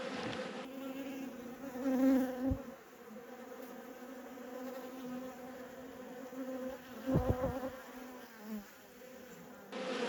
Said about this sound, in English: Super chill bees.